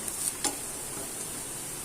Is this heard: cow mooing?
no